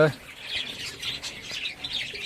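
Restless Java sparrows in clay breeding nest pots in winter give quick, high chirps and squawks, close by, with a brief human voice at the very start.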